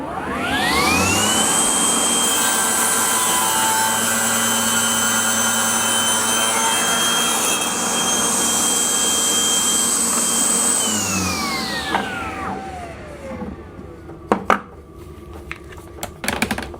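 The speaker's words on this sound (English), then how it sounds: "It's got more than enough power to deal with cuts through a reasonable sized piece of oak." A Festool CSC SYS 50 table saw cuts through oak. The motor winds up with a rising whine, holds a loud, steady cutting tone for about ten seconds, then spins down with a falling pitch, followed by a few sharp knocks and clatters.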